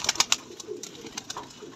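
A home flock of pigeons, some ill and sluggish from the weather, gives faint, low cooing amid a few sharp light clicks and rustles at the start, quiet and close.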